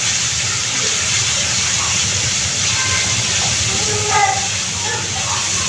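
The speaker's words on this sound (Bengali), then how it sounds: "জিরার গুঁড়া হাফ চামচ আমি খুব ভালোভাবে এটাকে আমি কষিয়ে নেব" Ground cumin and coriander spices sautéing in a pan while cooking a fish and vegetable dish, giving a loud, steady hiss that runs unbroken throughout.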